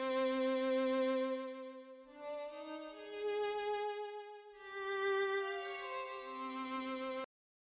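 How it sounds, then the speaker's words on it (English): A violin sound in FL Studio plays a drill-beat counter melody, smooth sustained bowed notes gliding between pitches in a slow line, heard alone before it cuts off abruptly. "I'm gonna use this violin instead."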